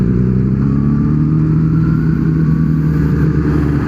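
A superbike engine revving at a loud, steady drone, close and sustained, with a slight rise in pitch partway through.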